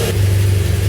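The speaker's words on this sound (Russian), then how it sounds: "Этот божественный звук, вы представляете? Этот мотоцикл заводится." BMW 800 GS motorcycle engine running after starting, a steady loud mid-pitched hum with a strong low drone, close up and alone.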